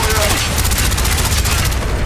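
Heavy gunfire in Call of Duty Black Ops, a loud continuous fusillade of rapid automatic shots and booming impacts with shouted voices over it.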